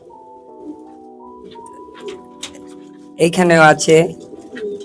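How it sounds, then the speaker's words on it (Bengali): Low pigeon coos rumble close by on a rooftop garden, sustained and loud toward the end, after a quieter stretch with faint background tones and a brief spoken remark. "এইখানে কবুতর রয়েছে"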